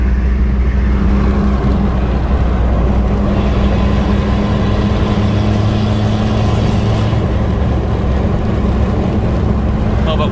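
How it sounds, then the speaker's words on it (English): A Mitsubishi L200 pickup fitted with a diesel tuning box drones loudly and steadily, its deep engine rumble constant throughout, with wind noise over it. "how loud this truck is now that I've fitted this diesel box to it"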